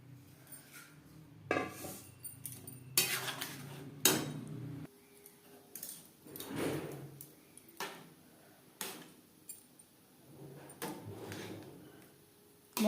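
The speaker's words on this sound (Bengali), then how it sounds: "মশলার সাথে বেশ ভালো করে মিক্সড করে দেব" A spoon clinks and scrapes repeatedly against a pan while boiled rice and dal are mixed with spices for vegetarian khichuri, a series of close, moderately quiet metallic knocks with pauses between strokes.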